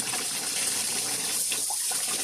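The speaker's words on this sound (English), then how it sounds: "Put a little cold water in there." Steady rush of water pouring from a faucet, a continuous broadband hiss with faint splashing, fairly close and unbroken throughout.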